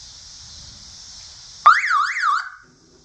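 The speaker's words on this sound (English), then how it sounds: "I believe it's from an old car alarm." Horn from an old car alarm fitted to an MGB, sounding loud and close as a single warbling electronic wail that sweeps up and down for under a second after a steady high tone, then cuts off.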